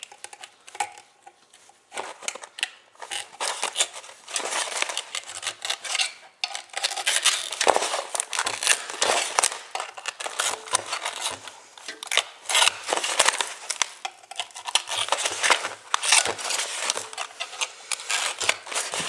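A loudspeaker is being cut apart by hand with a tool. Dense, scratchy snips and rasping scrapes come in uneven bursts, close and fairly loud, with brief pauses between strokes.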